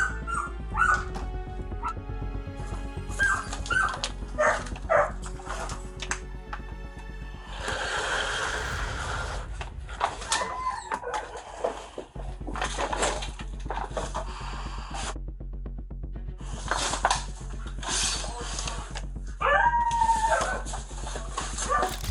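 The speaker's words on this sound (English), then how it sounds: "More dogs. 3 dogs. All malnourished." Several malnourished dogs inside a house bark, yip, howl and whimper repeatedly, some close and loud, others farther off, with a stretch of rustling noise in the middle.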